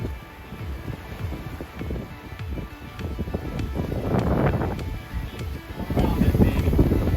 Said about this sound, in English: Finally, wind. We're sailing again.